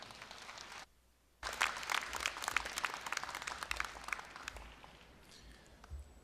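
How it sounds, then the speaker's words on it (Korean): Audience applause at a Korea University degree conferment ceremony, a sustained wash of clapping from a large hall after a brief quiet pause, gradually thinning toward the end. "여러분, 김재호 법인 이사장님을 큰 박수로 맞이해 주시기 바랍니다."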